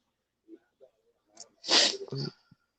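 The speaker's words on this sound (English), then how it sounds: "My allergies kicked up. Sorry. I was sneezing." One loud sneeze, preceded by a few small sniffs and a quick inhale, followed by a brief wheezy tail.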